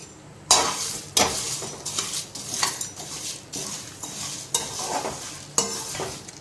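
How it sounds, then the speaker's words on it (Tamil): Whole spices for garam masala dry-roasting in a pan over medium heat, with repeated scraping strokes of a spatula against the metal at a steady rhythm, close and fairly loud, and no one talking. "இது எல்லாத்தையுமே வறுக்கும் போது பார்க்கலாம் இதை எல்லாத்தையும் மீடியமாக வச்சு"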